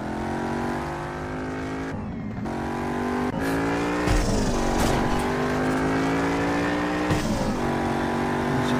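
Jaguar F-Type racing through drifts in the mobile game Need For Speed No Limits, its engine droning steadily at high revs with pitch dips and swells as the car slides through turns, loud and continuous throughout.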